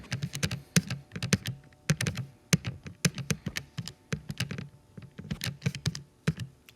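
Numbers are tapped into a calculator in quick, irregular bursts of close, crisp key clicks with short pauses between runs, no speech.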